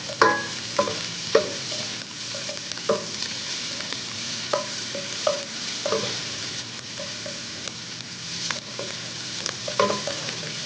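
Onions with tomato paste are stirred in a pot for a traditional octopus and green beans dish, with a steady sizzle running throughout and regular scraping and knocking strokes from the spoon.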